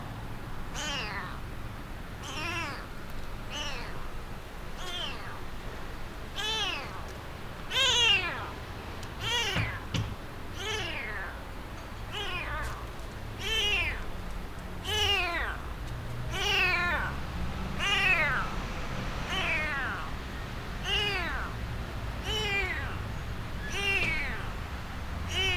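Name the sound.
kitten meowing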